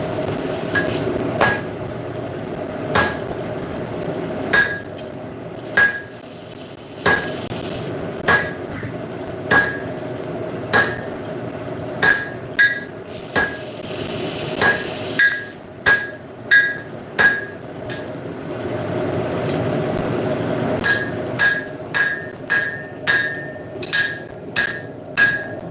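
Hammer forging hot steel to neck down and draw out a blade guard: sharp ringing metallic blows at a steady rhythm, spaced a second or two apart, then quickening into rapid clusters near the end, close and loud with no talk.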